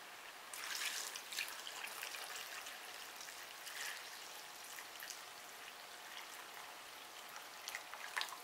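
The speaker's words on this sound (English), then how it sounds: "Then we're going to put in a quart of water." A quart of water pours into a pot of Puerto Rican beef stew, carne guisada, a faint steady splashing trickle that runs for several seconds with no talk over it.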